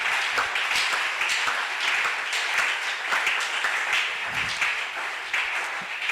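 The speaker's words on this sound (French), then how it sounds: "On acclame très très fort notre Dieu." A church congregation applauds God during a Thursday worship service, with continuous, dense clapping from many hands that holds steady and close throughout, with a few louder individual claps and faint voices mixed in.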